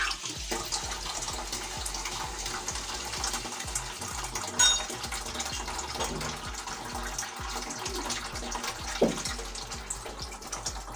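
Water from a tap runs steadily into a container, a continuous broadband gush with small clinks and splashes, fairly close and without talk.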